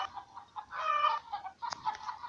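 Game chickens from the farm sim Egg, Inc. give short clucks and a longer squawking call, clear and close, alone without any talking.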